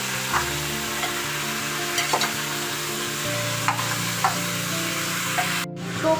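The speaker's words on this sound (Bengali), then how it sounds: "আমি নুন দিয়ে সবজিগুলোকে ভালো করে প্রেসার কুকারের মধ্যে ভেজে নিচ্ছি।" Vegetables fry with salt inside a pressure cooker for chicken stew, giving a steady close sizzle broken by scraping stirs and sharp utensil clinks, with no voices.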